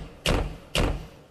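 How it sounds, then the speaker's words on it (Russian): Two solid knocks on a door during a KVN comedy stage sketch, spaced about half a second apart, loud and close with no talking over them. "В дверь стучат."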